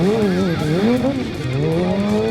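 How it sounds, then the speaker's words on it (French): A motorcycle engine revs with rising and falling pitch, tires squealing briefly as the rear wheel skids under the rear foot brake, loud and close. "un coup de frein au pied sur le frein arrière"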